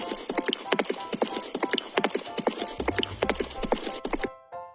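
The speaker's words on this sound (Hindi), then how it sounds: "ये घोड़े के दौड़ने की आवाज थी." A horse gallops, its hooves pounding in a fast, steady rhythm that sounds close and clear, with a low rumble near the end.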